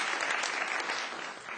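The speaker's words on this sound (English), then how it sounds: "we should give her a round of applause because she spent hundreds of hours" Brief, steady audience applause at a moot court competition final, honoring the finance director, with dense clapping at a moderate level that tapers slightly toward the end.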